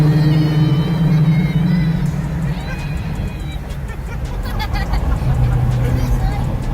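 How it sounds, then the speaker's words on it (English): A loud car that had been burned and then repaired rumbles steadily at speed-limit pace on its first test drive, with a continuous engine and road roar and people talking over it inside the cabin. "this car is loud. It's very loud."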